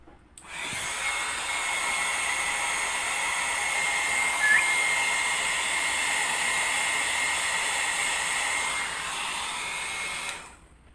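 Hair dryer blowing steadily on wet artwork for about ten seconds, a loud continuous whooshing hiss that switches on and off cleanly, heard close with no speech.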